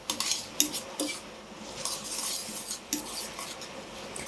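A spoon or tongs clink and scrape against a metal pot in short irregular bursts while fresh handmade tagliolini is mixed, with quiet pauses between the strokes.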